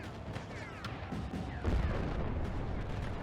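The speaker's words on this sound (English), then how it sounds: "Love that the cannons are burst fire." Burst-fire cannons in a mech video game fire in rapid clustered volleys, booming shots rolling over a dense rumbling game soundscape at moderate volume.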